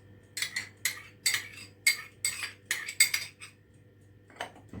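A spoon clinks rhythmically against a bowl while stirring a yogurt and tomato paste marinade, about eight sharp scraping taps in quick succession, close and fairly quiet.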